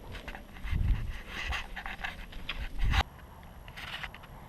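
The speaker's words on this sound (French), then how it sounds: "j'ai stoppé les chiens" Dogs panting outdoors on a countryside path, quick rhythmic breaths rising in two louder bursts close by, then fading to softer, more distant panting; no talking.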